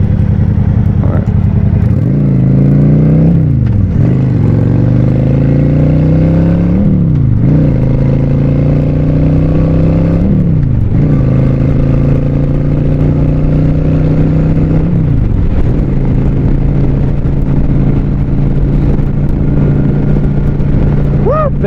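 Engine of the Boilermaker Special revs up and climbs through the gears, its pitch rising and then dropping at each of several shifts; loud, close and continuous throughout.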